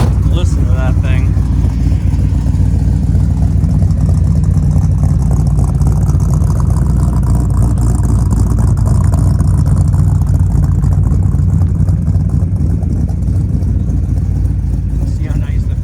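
A 1963 Pontiac Grand Prix with a 421 Tri-Power V8 and 4-speed runs steadily nearby, a loud continuous low rumble that holds through the whole stretch with only slight rises in pitch.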